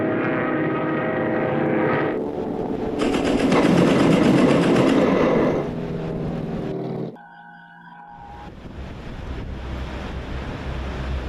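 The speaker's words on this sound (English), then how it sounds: "Incoming enemy aircraft, south by southwest." Enemy aircraft approach in a war-film battle scene: a loud roaring rush of engine and wind noise swells and fades, broken by a sharp tonal burst, then a steady rumbling drone resumes.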